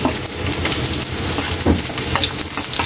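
Onions tipped into hot oil for a Visayan-style escabeche of tulingan fish, a loud dense crackling sizzle that holds steady throughout, close up, with faint stirring and no talk.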